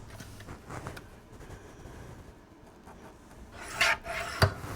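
Rasping strokes of filing or sanding on a wooden pencil box come quietly at first, then two sharper, louder scrapes and a knock near the end, with no talk.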